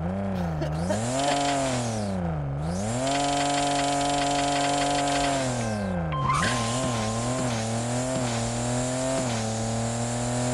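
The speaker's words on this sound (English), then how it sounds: "This car is actually pretty fun to drive." A race car in the Racing Rivals mobile racing game revs hard, its engine whining up through gear shifts with a tire squeal near the launch, loud and continuous.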